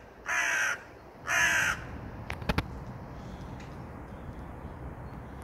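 Two loud, harsh crow caws ring out close by, followed by a few sharp clicks, then quiet outdoor background.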